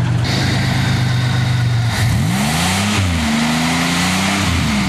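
A Buick Regal or Oldsmobile car engine keeps idling steadily with its battery disconnected, a loud continuous mechanical drone whose pitch wavers and shifts partway through as the revs change.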